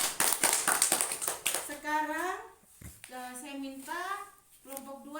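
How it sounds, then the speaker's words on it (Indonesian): A class gives a discussion group a round of applause, a brisk burst of clapping at the start that quickly gives way to someone speaking. "kita beri tepuk tangan untuk kelompok 1 dulu"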